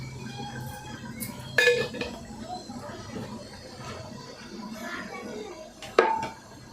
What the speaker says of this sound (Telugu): ఒక 2 మినిట్స్ మూత పెట్టేసుకొని మగ్గిద్దాం